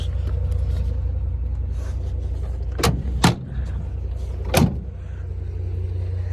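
The powered tailgate step on a 2023 GMC Sierra Denali pickup deploys with a few sharp mechanical clunks over a steady low vehicle hum.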